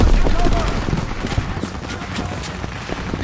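Rapid bursts of rifle and machine-gun fire crackle continuously during a World War II battle at the Ludendorff Bridge in Germany in Call of Duty WWII, dense, loud and close, with no gaps.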